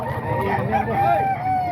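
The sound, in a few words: chickens and roosters clucking and crowing at market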